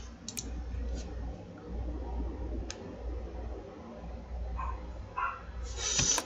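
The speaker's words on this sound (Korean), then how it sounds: "우리 집 강아지가 갑자기 짖네." A house puppy barks somewhere in the background, giving a few short, fairly faint yelps over a steady low hum with no talking.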